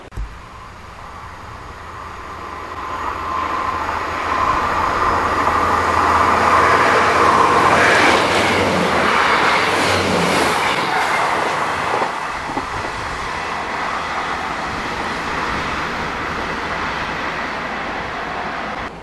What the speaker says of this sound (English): there's a train coming through